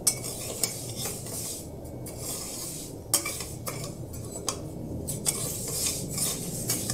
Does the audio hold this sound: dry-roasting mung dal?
yes